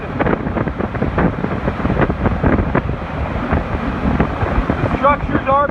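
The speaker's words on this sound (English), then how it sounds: "Sustained winds have got to be near 150 miles an hour." Hurricane Michael's eyewall winds, sustained near 150 mph with gusts near 170, roar loudly and continuously in a dense, buffeting rush, with someone speaking through the din.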